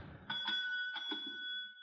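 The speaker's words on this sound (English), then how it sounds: "Here's a bell." Hotel front-desk bell struck in a radio drama at the Chelsea Hotel, two or three bright rings whose clear tone hangs and slowly fades, heard alone at moderate level.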